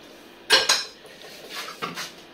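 Vegan borscht in a pot given a stir, with a couple of sharp metallic clinks of a utensil against the pot followed by softer scraping, close and brief.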